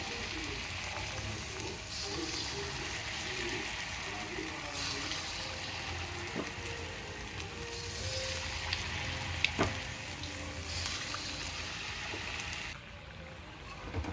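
Mysore bonda batter fries in hot oil with a steady, broad sizzling hiss that runs nearly throughout, broken by occasional small pops and clinks and easing off briefly near the end. Someone talks over the frying.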